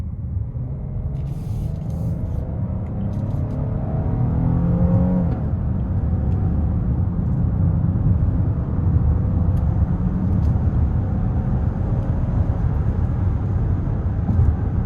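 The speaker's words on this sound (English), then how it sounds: "I'm gonna give it a pull getting on the interstate here" A 2027 Hyundai Palisade SEL Premium AWD with a naturally aspirated 3.5 V6 accelerates hard onto an interstate, the engine note rising in a steady climbing drone beneath road and wind noise, heard from inside the cabin.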